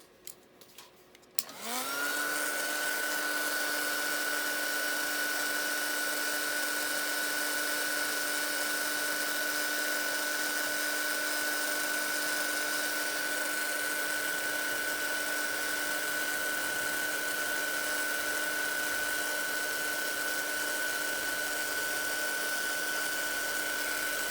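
A heat gun switched on after a few faint handling sounds, then a loud steady high-pitched whine of motor and blowing air held unbroken while melting gold embossing powder.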